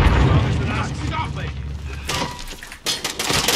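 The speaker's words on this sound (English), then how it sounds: "Oh, he's got a rocket launcher." A rocket launcher blast in Warzone, a heavy booming explosion with a shattering crash near the end, set among gunfire and game noise.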